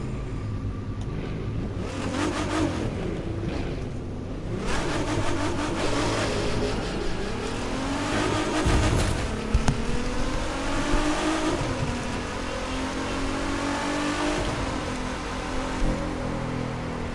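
A modded Nissan GT-R's engine revs and accelerates steadily through a street race, a continuous loud drone rising and falling in pitch with shifts, heard up close without talk.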